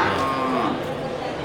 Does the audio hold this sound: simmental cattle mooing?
yes